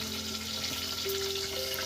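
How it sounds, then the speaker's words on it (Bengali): Puffed rice fries in a pan for a crispy namkeen snack, giving a soft, continuous sizzle with light stirring, fairly quiet and close, with no talking. "ওর মধ্যে বন্ধুরা হুড়ুম ভাজা জমজমাটি চলছে"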